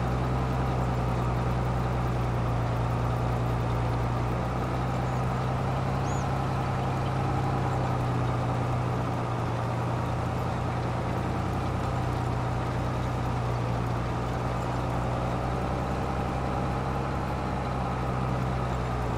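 Quad track tractor engine in the Farming Simulator video game, a steady loud low drone with a constant rumble that holds for the whole stretch, no voices over it.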